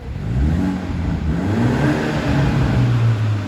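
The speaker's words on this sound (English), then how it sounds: "open up little butterfly valves in the exhaust to give it a very nice little rasp and a little burble" A BMW 430i M Sport coupe engine revs with a low, raspy exhaust burble from exhaust butterfly valves, steady and loud throughout, with no voices.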